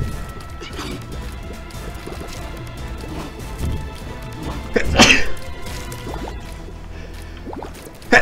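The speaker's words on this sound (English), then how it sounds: "sorry, sneezes" A single sharp, loud human sneeze bursts out midway over a busy bed of Binding of Isaac video game effects, with splats, drips and clicks continuing before and after.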